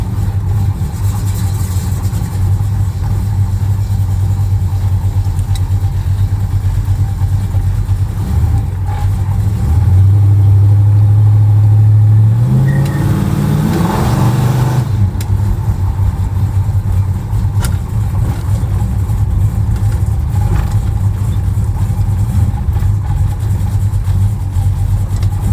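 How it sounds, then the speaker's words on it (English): A 1969 Dodge Dart Swinger V8 idling with a deep, rumbling exhaust burble, then a strong rev that rises and falls before settling back to a loud, lumpy idle. "Definitely a very nasty sounding exhaust."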